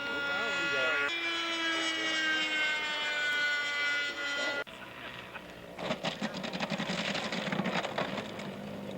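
A scale model aircraft takes off at an air show at Jack Lenhart's Air Park in Hubbard, engine whining with steady pitch, then fading, as people talk nearby.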